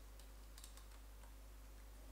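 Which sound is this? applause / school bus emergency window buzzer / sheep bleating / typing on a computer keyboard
typing on a computer keyboard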